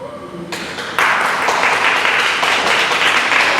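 Audience applause breaks out at a CMS de-escalation training when Bridget Copeland is named. A dense wash of clapping starts softly, then swells to a loud, steady ovation that carries on to the end.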